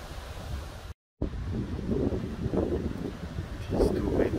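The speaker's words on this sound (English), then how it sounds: "It's too windy." Wind buffets the microphone in Victoria's Alpine National Park in a steady, rough rumble, with a sharp dropout early on and gusts rising and falling throughout.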